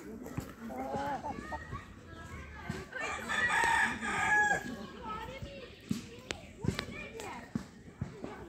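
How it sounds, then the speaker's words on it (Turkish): A Denizli rooster at a city forest zoo in Ünye crows loudly in one long drawn-out call in the middle, while visitors talk and chickens cluck nearby. "Denizli tavuğuymuş. O da horozu herhalde."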